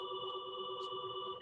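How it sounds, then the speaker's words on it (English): A telephone rings indoors with a steady electronic tone, faint and continuous through the short stretch, with no talking. "Sorry about the phone."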